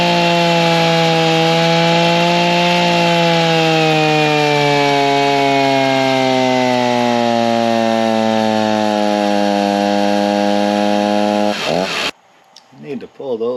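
A stock Echo 490 chainsaw screams at high revs on a dyno, its whining pitch sagging gradually under load before the engine cuts off abruptly, followed by brief quiet rustling.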